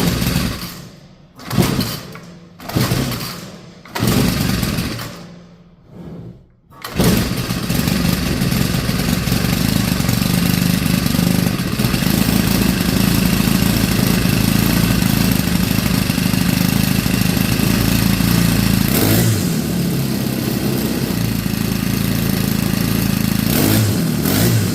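A weed eater with a newly replaced carburetor sputters through several short pulls and bursts, then catches and runs steadily at a loud, buzzing idle for the rest of the time.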